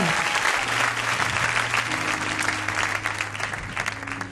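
A church congregation claps steadily, a dense, sustained round of applause filling the room, with a voice speaking over it.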